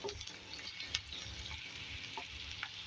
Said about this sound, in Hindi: ये फ्राई हो रही है अभी।